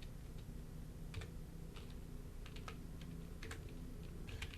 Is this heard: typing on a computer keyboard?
yes